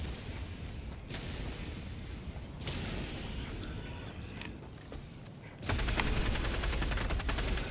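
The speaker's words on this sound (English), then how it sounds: "Orbital inbound. Firing orbital barrage." Orbital barrage strikes in the game Helldivers 2, a run of rumbling blasts and rattling mechanical bursts, growing into a louder dense roar of explosions near the end, with no voices.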